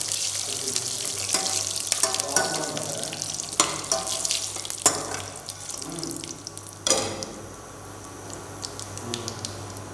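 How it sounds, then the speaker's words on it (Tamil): Curry leaves with fennel seeds, cloves and cinnamon sizzle in hot sesame oil as a steady, loud hiss, with sharp crackles and pops scattered through it, while cooking for a Tamil turkey pepper fry. "கருவேப்பிலை சிறிது சேர்த்து வதக்கணும்."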